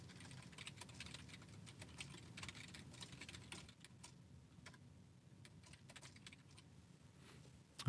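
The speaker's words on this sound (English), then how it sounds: "I will type in the instructions for collecting data" Steady typing on a computer keyboard while entering instructions into a text box in lab authoring software, a continuous run of light clicking keystrokes close by, pausing briefly midway before resuming.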